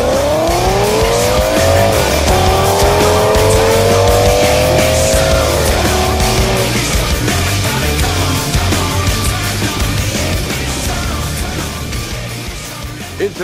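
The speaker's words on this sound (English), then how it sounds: "Get ready for some rough and ready intermediate track racing." Race cars roar around an intermediate oval track in a heat race, engines loud and close with rising pitch sweeps as cars pass, tires squealing over a dense, continuous wall of engine noise.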